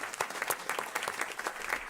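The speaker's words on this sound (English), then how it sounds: "So please give him a huge round of applause." Applause for a singer who has just performed breaks out as a dense, even patter of many hands clapping, moderately loud and steady throughout with no talking over it.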